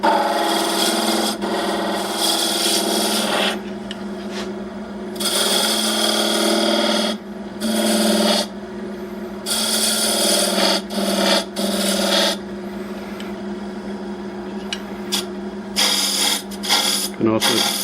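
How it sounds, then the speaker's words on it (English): Spindle gouge cutting a spinning wood workpiece on a lathe, rounding over an edge, giving a steady scraping hiss in repeated passes of a few seconds each with brief pauses, close and fairly loud. "we are just going to round over this edge with a spindle gouge"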